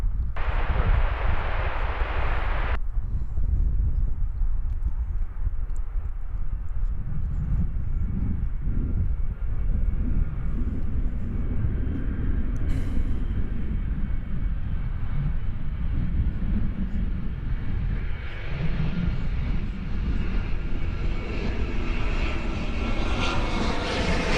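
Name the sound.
airplane approaching DFW Airport, from Denver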